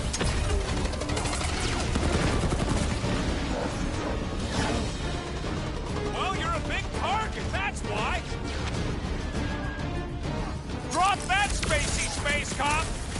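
Rapid gunfire and crashing impacts in the Guardians of the Galaxy video game as the characters come under fire, dense and loud throughout, layered with shouted character dialogue and chirpy electronic effects.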